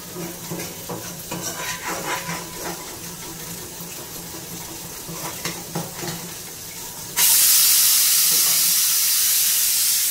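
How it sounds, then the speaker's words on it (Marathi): Green coconut paste going into hot oil, a few quiet scrapes and stirring clinks that give way to a sudden loud, steady hiss of frying that continues to the end, no talking. "हिरवं वाटण मी वाटून घेतलेलं आहे. आणि आता तेलात चांगलं परतून घ्यायचं."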